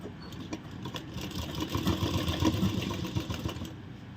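A sewing machine stitches the side seam of palazzo pants, a steady fast motor hum with rapid needle chatter, close and moderately loud, no talk.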